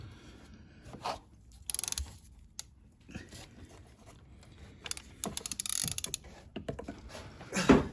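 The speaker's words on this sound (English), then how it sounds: "Alright, so he's coming loose now. I'll get my socket off." A socket wrench loosens the oil filter on a Citroen C3 Picasso. Its ratcheting clicks come in short, uneven bursts between quieter stretches of rubbing and fiddling, with a louder clatter at the end.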